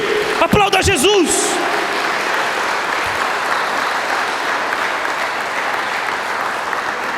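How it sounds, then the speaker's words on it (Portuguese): A church congregation bursts into loud, sustained applause during a Portuguese-language sermon, steady dense clapping filling the room, with a brief raised voice at the very start. "Aplauda Jesus."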